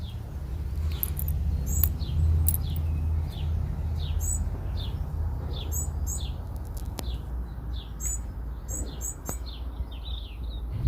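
Baby robins chirp in short, high, repeated calls over a steady low rumble in a garden, moderately close and fairly continuous.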